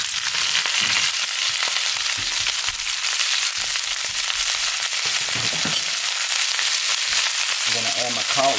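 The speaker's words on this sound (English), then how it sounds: "I'm gonna go ahead and add in my cabbage." Cabbage dropped into hot bacon grease in a pot sizzles loudly and steadily, a dense frying hiss with crackles and spatter throughout, with faint rustling as it settles.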